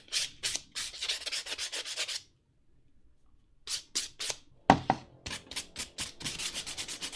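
Sandpaper is rubbed by hand over a piece of armor: quick, close back-and-forth scratchy strokes in rapid rhythmic bursts, broken by a roughly one-and-a-half-second pause before the scraping resumes.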